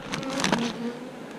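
Close buzzing of honeybees around a hive as it is being fed and tended, a brief busy hum with a few wingbeat flutters swelling and fading.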